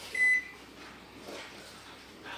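A Panasonic NN-GT35HM microwave grill oven gives one short, bright electronic beep as a button is pressed, followed by quiet room sound.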